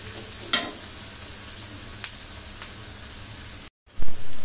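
Onion fries in a pan for beef curry, a steady sizzle with a sharp scrape of the spatula early on and a few faint taps. A brief silent break is followed by a louder burst of frying.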